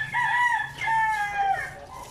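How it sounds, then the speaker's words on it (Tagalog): A rooster crows loudly and close by, a single long drawn-out call with rising and falling pitch, heard during a bus trip from Manila to Leyte. "Yung manok."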